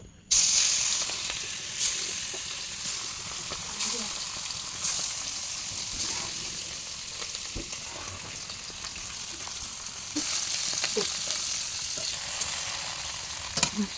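Bhetki fish fries in hot oil in a kadai, giving a steady broadband sizzle that runs nearly the whole time, with occasional clicks and small bursts of spatter.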